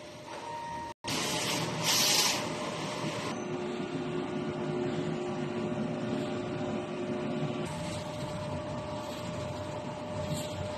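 A DTF printer runs a nozzle test, giving a steady mechanical whir and hum with a brief dropout near the start and a sustained carriage drone throughout, fairly close and without talk.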